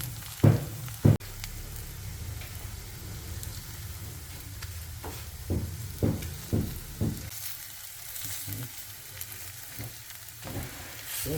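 Eggs sizzle in a pan on leftover heat as part of an English breakfast, a steady close fry hiss with a few louder scraping knocks from a utensil scattered throughout.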